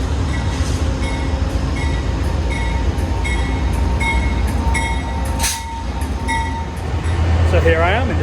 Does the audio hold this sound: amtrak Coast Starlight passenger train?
yes